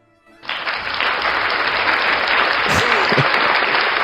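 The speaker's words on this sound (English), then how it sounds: "I think we deserve a round of applause." Applause from a podcast group breaks out suddenly after a brief quiet moment, then holds as a steady, dense wash of clapping through to the end.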